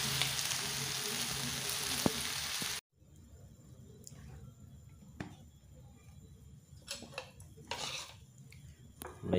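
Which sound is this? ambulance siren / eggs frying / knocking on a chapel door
eggs frying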